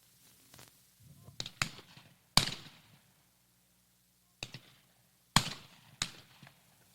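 Shotguns fire at a high school trap and skeet team practice in Northfield, a handful of sharp, separate reports spaced a second or more apart, some nearer and louder, others softer, with quiet between them.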